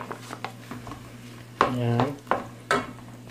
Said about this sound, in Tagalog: haluin lang ulit natin siya ng haluin